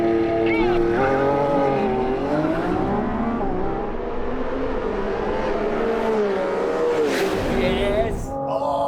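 A Ferrari 12C, Lamborghini Revuelto and Aston Martin Vanquish drag race, engines roaring loud and close with rising and falling revs through gear changes, while people talk excitedly over the noise.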